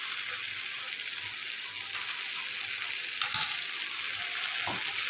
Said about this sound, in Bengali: মাছটাও একটু সঙ্গে ভাজা ভাজা হবে